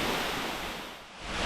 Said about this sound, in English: Even more waterfalls.